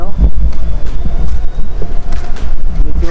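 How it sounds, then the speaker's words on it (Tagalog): Strong wind buffets the microphone outdoors in the evening with a loud, steady low roar and gusty rumbling throughout. "bilis ng hangin oh"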